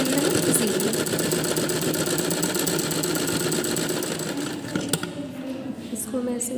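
A sewing machine runs steadily as it stitches a double seam on a smocking frock, its rapid mechanical whir filling the first few seconds before it stops and leaves quieter handling noises.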